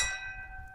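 A steel gong rings once after being struck by a .25 caliber PCP air rifle pellet at 50 yards, giving a bright sustained metallic tone that decays over under a second.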